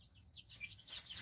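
A farmyard rooster gives a few quick, soft clucks, faint and close, with no talk over them.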